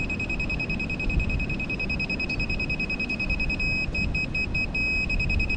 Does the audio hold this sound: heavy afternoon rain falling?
no